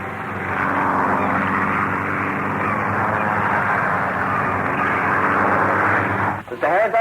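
Aircraft engine sound effect from an audio drama: a steady, loud droning roar of a propeller plane in flight that holds constant, then ends in a brief crackle at the close.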